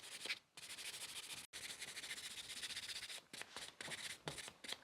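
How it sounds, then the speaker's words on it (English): A nail buffer rubs back and forth over sculpted stiletto nails, making close, soft, hissing scratches in short repeated strokes separated by brief pauses. "grab the buffer and then start buffing the entire surface this time"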